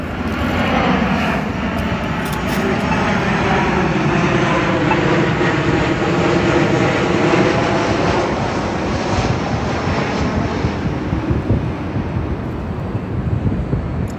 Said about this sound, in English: wait for this plane.